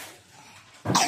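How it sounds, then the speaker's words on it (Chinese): A single short cough bursts out near the end of a quiet stretch in a home kitchen where a family is cooking stewed goose and chicken. "还咳嗽。"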